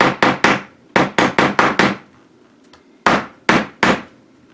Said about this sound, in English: I hammer them in to make them good and flat with the surface